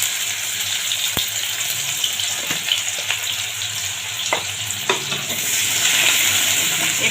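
Chopped onion hits hot oil in a wok already tempered with nigella seeds, giving a steady, close sizzle and frying hiss with a few light clicks of stirring.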